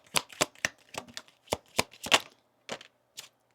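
Tarot cards being shuffled and drawn for a reading, a series of crisp riffling snaps and slaps in irregular bursts, close and fairly quiet with no talking.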